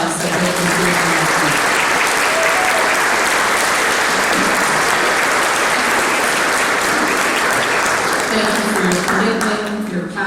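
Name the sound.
applause for board members at a donor event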